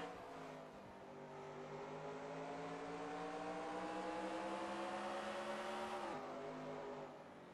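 Stock race cars roar steadily around a banked short track in the BB&T 200 race, a dense, sustained engine drone with rising pitch as the pack accelerates, loud throughout and fading sharply near the end.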